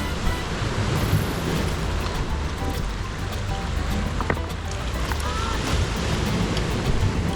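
Surf washing onto the rugged Ulleungdo coast right in front of a free seaside campsite, a steady broadband wash with wind buffeting the microphone and faint voices in the background.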